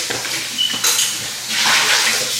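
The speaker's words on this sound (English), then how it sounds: "let mommy wash this out first" A brownie mixing dish is being rinsed under a running kitchen tap. Water splashes and rushes in bursts, with light clinks of dishware against the sink and no talking.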